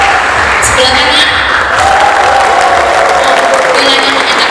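The right side of an audience at a company family gathering claps loudly and continuously, a thick wash of applause with crowd voices and some cheering throughout.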